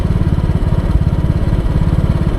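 Motorcycle engine runs loud and close in a steady, rapid low throb with a fast regular pulse, holding an even idle-like rhythm with no revving.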